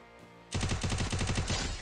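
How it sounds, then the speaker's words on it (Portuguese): Rapid burst of automatic gunfire in a Free Fire-style battle royale game, a loud rattling string of about a dozen shots after a brief quiet lead-in, with no talk. "Tiro."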